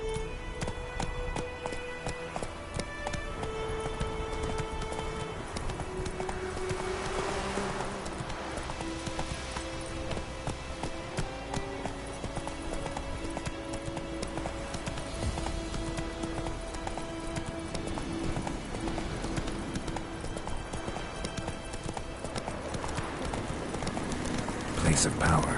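Galloping hooves of Roach, the horse in The Witcher 3, clop steadily and close throughout, mixed with game music and ambient rain-like effects, while a voice speaks briefly over it.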